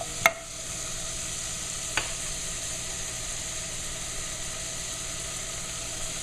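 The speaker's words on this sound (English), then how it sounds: "you want to hear a small sizzle like that" Carrots sizzle softly and steadily in a pan, with a couple of faint clicks from utensils at the start.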